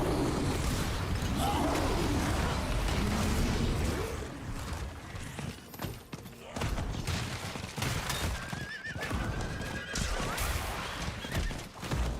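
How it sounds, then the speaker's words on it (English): A horse whinnies loudly over galloping hoofbeats in Diablo 4, followed by bursts and impacts of game action, busy and continuous. "his horse is just knocking stuff back"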